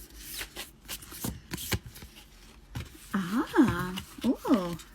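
Cards being shuffled for a general card reading, a series of quick riffling bursts close to the microphone, followed by someone speaking softly.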